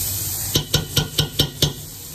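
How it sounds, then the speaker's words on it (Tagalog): Garlic sautés in hot oil under a soft continuous sizzle, punctuated by six evenly spaced clicks of a utensil striking the pan, near and distinct. "pag mainit na po yung mantika natin, lalagyan po natin siya ng garlic, mga 2 tablespoon"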